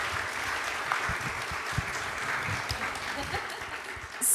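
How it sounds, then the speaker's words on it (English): An audience at a live Female Founder World event applauds in a steady round of clapping, with voices talking over it throughout. "I think they deserve a round of applause, everyone"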